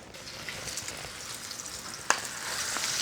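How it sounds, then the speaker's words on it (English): Pork shanks dredged in seasoned flour brown in shimmering hot oil with a steady, close sizzle and one sharp pop partway through; no one speaks. "As the meat is browning"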